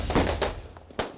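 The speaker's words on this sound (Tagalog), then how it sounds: "Pasiklaban ang mga taga-Tondo, Maynila sa dami ng paputok para sa pagsalubong ng bagong taon." Firecrackers bursting during New Year celebrations in Tondo, Manila: a few sharp loud bangs in quick succession, with a final near crack at the end and crowd noise underneath.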